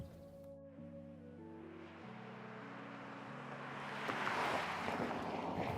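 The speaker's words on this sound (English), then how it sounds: "I'm doing 35 miles an hour, 36, and get a bit of wind noise, you get a bit of road noise" Steady broadband wind and road roar inside a 2022 Tesla Model Y cruising at about 35 mph, a low continuous hum with tonal drone, swelling louder toward the end, no talking.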